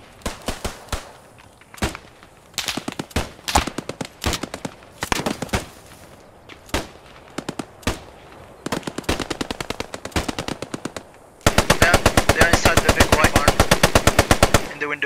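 Gunfire in the Post Scriptum video game: bursts of single shots and short machine-gun volleys, sharp and loud, building to a long, rapid sustained machine-gun burst near the end.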